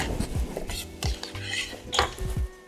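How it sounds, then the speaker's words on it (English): Cut bacon pieces tossed into a cold pan, heard as close clattering of metal and utensils with scraping and knocks, irregular and fairly loud. "We're just gonna cut our bacon straight down, whack that into the pan."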